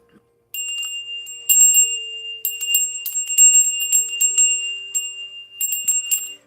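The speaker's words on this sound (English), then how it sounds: "Here, we'll ring the bell too." A small bell rings repeatedly, bright metallic chimes struck in uneven quick succession, each leaving a clear lingering ring.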